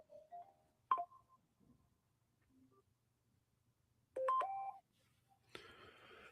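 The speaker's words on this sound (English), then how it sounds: "I got a phone call coming in" Electronic tones of an incoming phone call, several short beeps and tone bursts separated by near silence, fairly faint and heard alone without talk.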